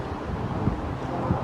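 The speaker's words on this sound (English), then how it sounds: "it's hecka windy out here" Strong outdoor wind buffeting a microphone during a Malibu ski boat engine assembly, a dense low rumble with occasional gust thumps, loud and continuous, with no talking.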